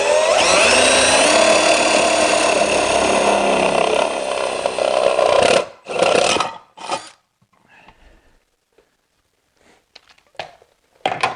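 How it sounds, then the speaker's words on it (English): A half-inch drill bores into a Power Wheels rim with a loud, sustained whirring grind for about five seconds, then stops abruptly, followed by a few short bursts and faint clicks before near silence. "we're going to take our 1/2-inch drill and we are going to center it up."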